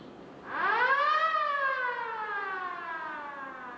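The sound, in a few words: theatre organ siren sound effect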